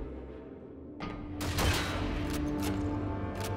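Gunfire from the player's weapon in Call of Duty 2, a loud close burst of rapid shots erupting after a quieter start and rolling on with battlefield noise.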